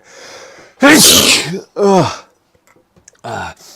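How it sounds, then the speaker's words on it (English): A loud, close sneeze with a sharp wind-up burst, followed by a second explosive sneeze and a short third one, then quiet. "Oh, I have to sneeze."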